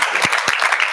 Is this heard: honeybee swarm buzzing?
no